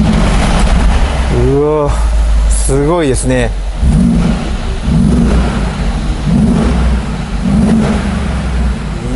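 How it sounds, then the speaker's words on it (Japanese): A 2013 Mercedes-AMG G63 V8 rumbles deep and loud, running hard and revving under excited talk. "こののぶとい V8 のサウンドがですね本当に迫力あります。"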